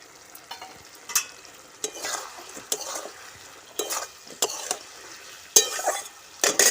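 Vegetables for chili paneer are stir-fried and simmered in a pan, with scattered scraping stirs and soft sizzling bursts coming close and fairly clear, separated by quieter gaps.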